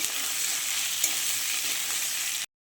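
Potatoes being stir-fried in a pan for a Bengali red amaranth and rohu fish head dish, giving a steady, even sizzle with one small scrape near the middle, close and alone before it cuts off.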